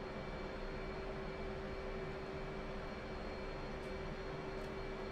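An F/A-18C Hornet taxis at Kobuleti airfield in a flight simulator game, giving a steady, even jet-engine drone with a faint whine held on top and no talking.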